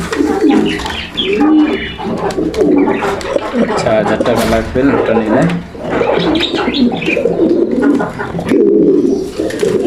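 Racing pigeons coo steadily in a loft, their low throaty calls continuous and close, with someone talking over them throughout.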